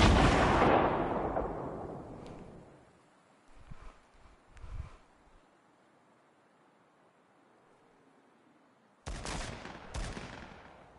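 Rockets fired in Fortnite: a loud blast that trails off into a long fading rumble, a few muffled distant thuds in the middle, then two more sharp, loud bursts near the end.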